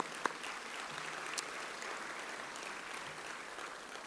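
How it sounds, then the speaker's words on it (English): An audience claps steadily at a Pasadena State of the City luncheon, a fairly soft, even round of applause from a room full of guests. "I want you to join me in applauding that the Chamber turns 100 years old next year."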